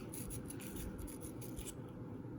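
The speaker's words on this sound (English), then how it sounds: "you have to actually do a lot of sanding on this boss here like that" Quiet, rapid rasping strokes of sandpaper rubbing back and forth on a plastic model ship part in short bursts, then fading into near silence.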